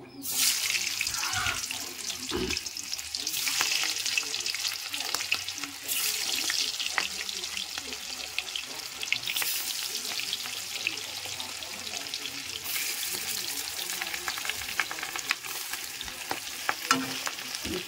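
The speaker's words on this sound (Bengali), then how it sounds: "মাছগুলোকে আমি ভাজতে দিয়ে দিয়েছি।" Pieces of catla fish fry in hot oil, a steady crackling sizzle with bursts of sharper spitting and occasional stirring clatter, close and continuous with no talking.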